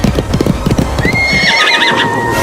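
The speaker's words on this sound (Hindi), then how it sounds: "वो देखो घोड़ा गाड़ी आ रहा है" A cartoon horse-drawn cart approaches with rhythmic clip-clop hoofbeats, then a loud, shrill whinnying neigh takes over, close and prominent, with no talking.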